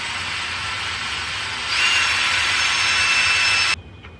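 A drill with a larger bit boring into a 3D printed fuselage part for an RC YF-23 fighter jet, a close, steady high whine that rises in pitch and loudness midway, then cuts off abruptly.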